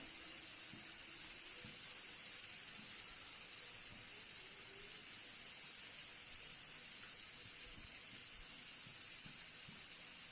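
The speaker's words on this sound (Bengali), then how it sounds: "মশলাটি মিডিয়াম আছে আমি ভাজবো, এবং খেয়াল রাখতে হবে মশলাটি যাতে পুড়ে না যায়।" A spice paste (masala) fries in a pan for a pangas fish curry, giving a steady, continuous sizzling hiss at moderate level with faint scattered crackles underneath and no talking.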